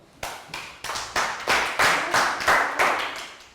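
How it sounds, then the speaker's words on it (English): Classroom round of applause during a Year 3 maths game: a small group claps in a quick, regular rhythm, about three sharp beats per second, fairly close and loud. "Round of applause."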